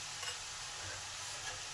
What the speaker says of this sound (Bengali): এবার ঢেঁড়সটা খুব ভালো করে আলুর সাথে মিলিয়ে নিই।